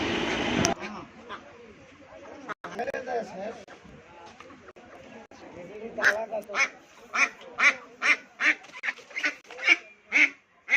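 Ducks quack in a loud, rapid series of harsh calls near the end, following a stretch of talking and scattered handling noise.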